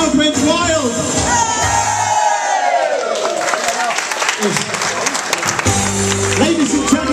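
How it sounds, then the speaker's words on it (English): A club audience at a Liverpool live entertainment night cheers, whoops and applauds loudly after a singalong, with a swooping sound effect and a host's voice mixed over the noise. "And the crowd went wild."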